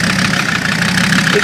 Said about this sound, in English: It's a 5-cylinder Mercedes turbo diesel engine.